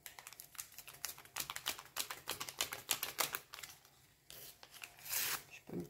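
Cake batter with sugar being mixed in a bowl for an apple cake, a rapid series of sharp scraping and tapping strokes with brief pauses, close and fairly quiet.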